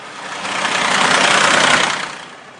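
A junk truck engine in a children's learning game, a rough mid-pitched motor swelling in loudness and fading away within a few seconds, alone without talk.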